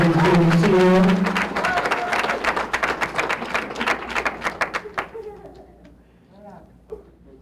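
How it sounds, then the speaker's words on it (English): A round of applause for graduates at a high school graduation ceremony, with a voice speaking over the opening as clapping patters on, thinning into scattered claps before fading to near silence. "Let's give our graduates one more round of applause"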